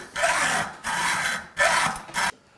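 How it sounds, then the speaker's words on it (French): Hand hacksaw cutting through chrome-plated metal: four even, rasping strokes in a regular back-and-forth rhythm, close and fairly loud, with brief pauses between strokes and no talking. "Et là, je peux scier. Toujours pareil, mouvement régulier."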